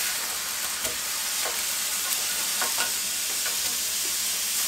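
Hamburger patties sear in a pan, giving a constant, close hiss of frying fat with a few soft clicks and pops scattered through, moderately quiet and without talk.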